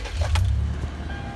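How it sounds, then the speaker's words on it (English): A Toyota Tundra pickup truck's engine idles just after starting, a steady low rumble heard up close, with a brief light rattle near the start. "The car starts perfectly"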